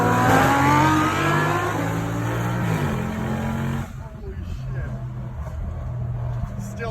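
A car engine revs hard and loud, its pitch climbing and then falling back before cutting to a lower rumble, with people talking over it.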